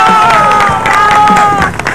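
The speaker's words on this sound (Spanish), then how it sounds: "¡Primero que dice el aplauso!" A TV studio audience at a comedy show final bursts into loud, close applause mixed with cheering and shouting voices, dense and energetic for about two seconds.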